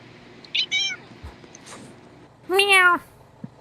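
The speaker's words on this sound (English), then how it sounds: "Sorry, that's my cat." A pet cat meows indoors, a couple of short close meows followed by a louder, longer drawn-out meow, with a faint soft knock near the end.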